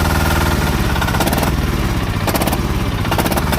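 A loud engine running steadily with a rough, chugging idle like a tractor, continuous and close, no voices.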